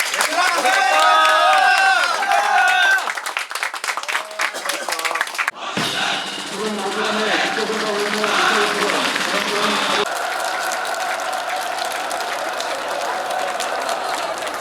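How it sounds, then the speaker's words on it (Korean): Applause and voices at a military training camp ceremony, mixed with music and shifting crowd noise, with people talking and a loud, busy wash of sound throughout. "살을 빼준 동기에게 박수."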